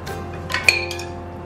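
Washed mutton pieces dropped into a metal pressure cooker in a home kitchen, giving a few light clinks and clatters of metal and meat against the pot, close and fairly quiet over a steady background hum.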